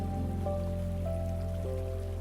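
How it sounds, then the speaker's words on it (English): Soft, steady rain falls through trees at night, a continuous gentle hiss blended beneath sustained, softly shifting musical tones. "There's a soft rain drifting through the trees tonight, steady, calm, and full of its own quiet magic."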